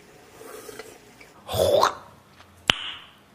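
A single noisy slurp of soup close to the microphone, followed a moment later by a sharp click, in an otherwise quiet room.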